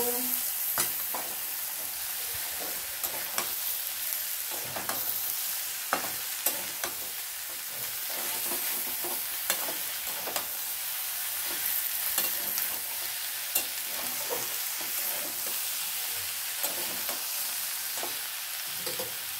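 A spatula stirs a dudh kofi mixture with coriander powder in a hot pan, giving a continuous close sizzle broken by regular scraping clicks and taps against the pan's metal.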